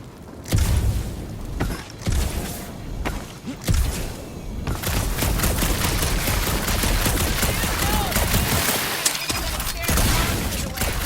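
Gunfire in the video game Marvel's Guardians of the Galaxy: dense, sustained bursts of blasting with heavy thuds and booms, loud and close, brief pauses early on, then a long unbroken volley mixed with game effects.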